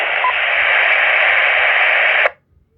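Handheld FRS/GMRS radio receiving on its channels gives out a steady band of static hiss for about two seconds, then cuts off abruptly into near silence.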